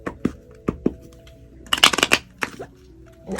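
A tarot deck shuffled in a few quick bursts, with soft papery riffles and taps clustering in the middle and scattered clicks before and after, close and fairly quiet with no talking.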